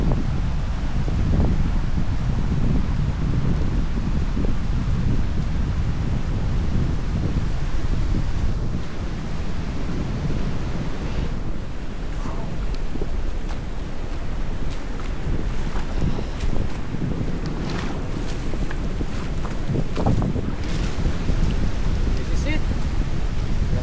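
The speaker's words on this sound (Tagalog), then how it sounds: "Lalaki ng alon." Heavy Pacific Ocean surf crashes and rumbles continuously on the coast outdoors, with strong wind buffeting the microphone and occasional voices underneath.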